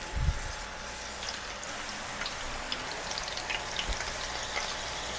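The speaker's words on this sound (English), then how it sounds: "we're just gonna go in here with small batches, little by little, and just fry up the zucchini." Zucchini fries in small batches of oil in a pan, giving a steady, dense sizzle and crackle throughout with scattered pops, fairly close and alone without voices.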